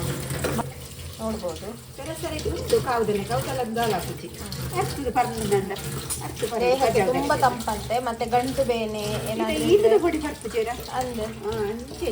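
Herb roots for a village-style joint-pain remedy are rinsed under running water, a steady splashing stream flowing throughout while people talk over it nearby.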